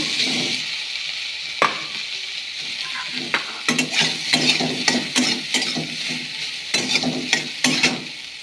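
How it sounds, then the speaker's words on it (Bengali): Soybean chunks fry in oil in a wok, giving a continuous hissing sizzle broken by repeated scraping and clinking strokes of a spatula stirring them, close and fairly loud with no talk. "দেখো আমার কড়াইয়ে তেল আছে, এই তেলে আমি সয়াবিনটা ভেজে নেব।"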